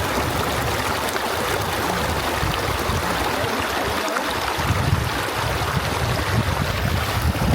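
Cold stream water rushes and splashes in a continuous, loud wash as someone steps in while bikepacking in Denali, Alaska, with no voices.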